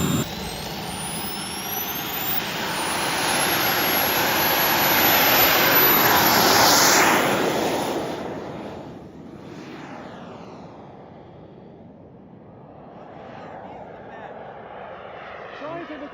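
A giant turbine-powered RC aircraft capable of 300 mph runs its jet engine with a loud, steady roar that swells to a peak near the middle, then eases back and holds at a lower whine, with people talking faintly underneath.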